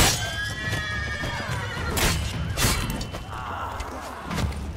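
Horses neighing in The Witcher 3: Wild Hunt, a long shrill whinny followed by thuds and crashes, then another quieter neigh, set against loud rumbling action.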